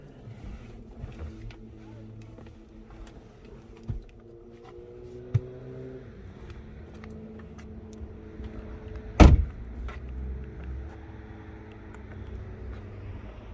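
A 2021 BMW 2 Series Gran Coupe 218i M Sport with a 1.5-litre engine and DCT gearbox is push-button started: a sharp burst of cranking, then a steady, low idle rumble that follows after quiet, faint cabin sounds.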